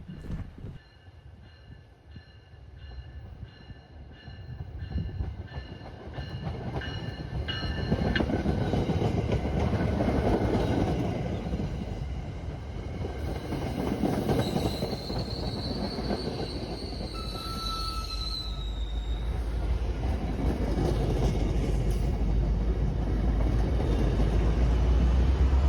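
An MBTA inbound commuter train enters the main line at a rail junction, a heavy rumbling approach that builds to a loud steady roar with high wheel squeals and tonal hums, heard alone without voices.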